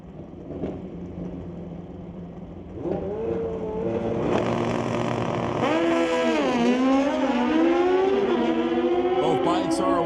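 Two drag racing motorcycles, one a 2017 Suzuki GSX-R, launch at a drag strip, engines rising to a loud howling rev that sweeps up and down through the gears, with an announcer's voice over the track noise.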